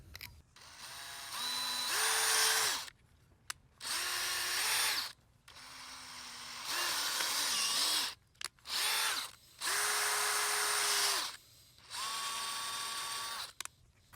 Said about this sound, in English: I'm just going to take my drill and drill a hole in the very bottom of each one